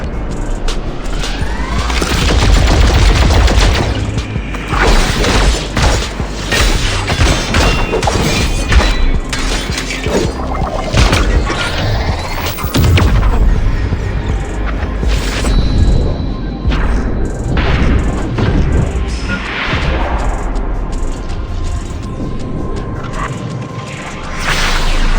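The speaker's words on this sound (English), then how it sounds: "Multiple detonations detected." Multiple detonations rumble and crash in the game Coreupt, a long, dense run of booming blasts, shattering debris and whooshing impacts that stays loud throughout with no talk over it.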